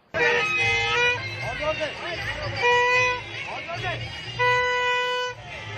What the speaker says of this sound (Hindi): कुछ शरारती युवा सड़क पर चल रहे लोगों को भोंपू बजाकर परेशान कर रहे थे